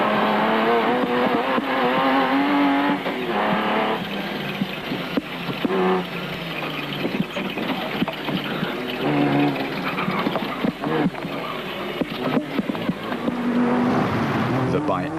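A rally car powers past on a dirt route during the Lesotho Sun 400 in 2006, its engine loud and revving with shifting pitch, while a narrator talks over the noise.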